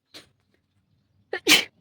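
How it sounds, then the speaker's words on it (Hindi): A woman with a dust allergy lets out a single sharp, close sneeze with a quick inhale while dusting a bed and windows. A faint brief sound comes just before it. "कान भी खुल गया, ऐसी ज़ोरों से छींक आई मुझे भी"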